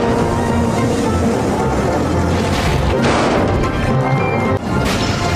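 A loud, continuous din of crashing, banging and clattering metal as Thomas and Friends diesel and steam engines and rail cars slam together, with no pauses.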